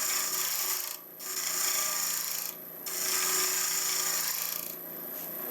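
A power carving tool grinds into a calabash bowl with a steady, close, coarse rasping, briefly easing off twice before biting back in.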